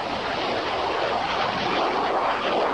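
Northrop F-5 fighter jet of the Brazilian Air Force, its engine giving a steady, loud broadband roar that holds constant throughout with no voices.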